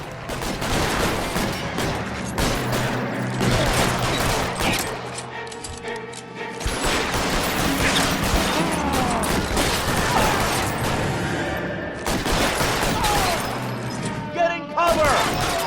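Shootout gunfire from the video game L.A. Noire, dense overlapping bursts and booms running continuously under heavy action noise, with voices shouting in places.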